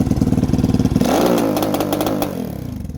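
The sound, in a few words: Lifan KP Mini 300 motorcycle engine at full throttle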